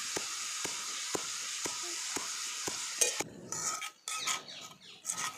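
Val bean pods sizzle steadily in a hot pan while being stir-fried, a bright continuous hiss broken by regular scraping stirs of a spoon, then clattering utensil sounds near the end.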